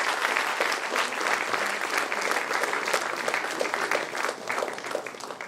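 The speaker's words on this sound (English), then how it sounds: "Huge round of applause, delegates." Delegates at a school Model United Nations conference applaud the executive board, a sustained, energetic burst of many hands clapping at a steady, fairly loud level with faint crowd voices mixed in.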